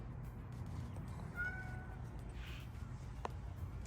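A cat gives a single short meow mid-clip, faint against a quiet outdoor background, followed by a brief soft sound and a small click.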